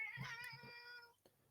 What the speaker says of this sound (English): my cat's yelling at me